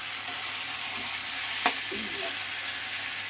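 Chicken and potatoes with spices sauté in a pan, a steady, even sizzle with a sharp clink of a spoon partway through and faint stirring scrapes.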